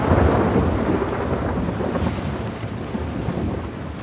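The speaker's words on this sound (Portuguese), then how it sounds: "que tempestade" Heavy thunderstorm in the video game The Last of Us Part II, a loud rolling rumble of thunder over steady pouring rain that fades slightly, with no voices.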